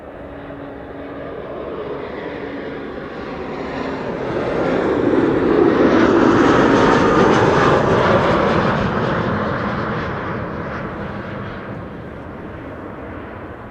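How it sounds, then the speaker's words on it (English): A KLM Cityhopper Embraer 190 airliner arrives at Amsterdam Schiphol, its jet roar swelling steadily to a loud peak mid-pass and then fading away, with no one talking. "over here we have an Embraer 190 going from the very big to the very small"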